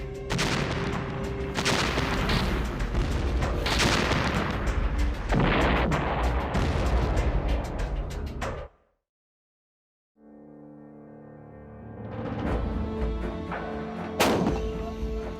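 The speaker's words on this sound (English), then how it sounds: "The rotating band will be engrooved into the lands and grooves, which are machined in the howitzer, causing the projectile to spin" A howitzer fires in loud, dense booming blasts that roll into each other, then cut off briefly before further heavy reports and rumbling return near the end.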